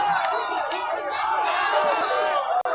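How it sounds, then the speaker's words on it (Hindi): A large, agitated crowd of supporters shouts and chants at a political rally at Gandhi Maidan in Patna. The dense roar is close and continuous and mixes with scattered yells. "भीड़ कुछ इस तरीके से उग्र हो"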